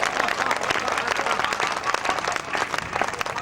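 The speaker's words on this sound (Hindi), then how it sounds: "जोरदार तालियां बजाएं खुददार कविता के लिए" A crowd at a Hindi poetry gathering, a kavi sammelan, applauds a poem with dense, loud, continuous clapping that stays full and even from start to finish.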